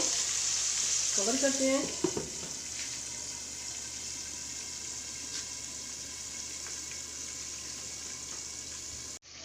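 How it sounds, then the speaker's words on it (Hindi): Crispy KFC-style fried chicken fries in oil, a soft continuous sizzle with a few stirring clatters early on, and a voice speaks briefly near the start. "माशाल्लाह ये बहुत अच्छा फ्राई हो रहा है"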